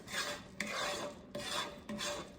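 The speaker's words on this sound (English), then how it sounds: "I'm not going to stop stirring this because I do not" Thick fudge is stirred steadily in a pot, a spoon rasping against the bottom in long, even strokes broken by short gaps; quiet and close, with no voices.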